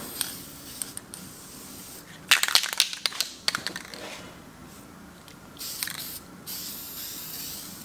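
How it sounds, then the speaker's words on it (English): Van Dyke Brown toner is sprayed as a fine mist onto a cabinet panel during refinishing, in a cluster of sharp hissing bursts followed by a few shorter sprays against a quiet background. "And I'm just going to mist that color on there."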